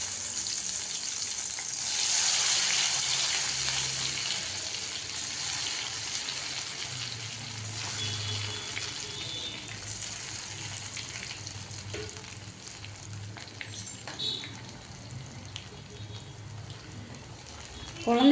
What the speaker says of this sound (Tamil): இப்போ நான் ஒன்று ஒன்றா போட்டு பொரிச்சு எடுத்துடலாம்.